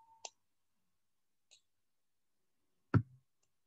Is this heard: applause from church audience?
no